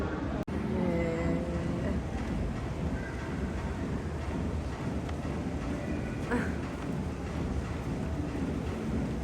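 Steady rain falls during bad weather, a dense continuous wash of noise with a sharp thump near the start and faint tonal sounds mixed in.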